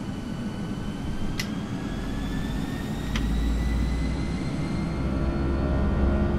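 Simulated airliner jet engines spooling up for takeoff, a loud continuous roar with a rising whine and deepening low rumble, with two short sharp clicks along the way.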